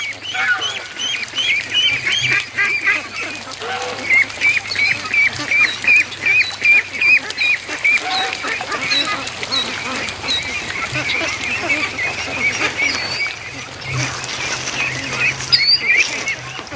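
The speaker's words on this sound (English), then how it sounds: "Ducks in a row, following the geese home." Ducks quack repeatedly in a busy, overlapping chorus, with occasional goose-like honks mixed in over steady outdoor background noise.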